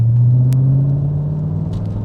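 An Audi RS4 engine cruising along at steady load gives a low, continuous droning rumble from inside the car, close and fairly loud, with a faint click partway through.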